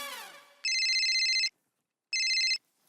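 A mobile phone rings with a bright electronic ringtone, two loud steady bursts separated by a short silence, preceded by a brief descending tone.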